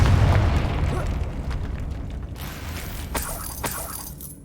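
A booming fiery blast from the Confringo spell in the game Hogwarts Legacy bursts loudly at the start and rumbles away, with mechanical clicks and small pops trailing after.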